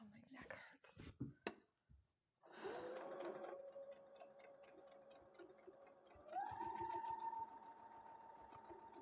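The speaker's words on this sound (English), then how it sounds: "Hopefully the sewing machine is not too loud." Whispered speech and soft breathing open, then a home sewing machine starts and runs steadily with a motor hum and needle chatter, its pitch stepping up partway through while a voice speaks quietly over it.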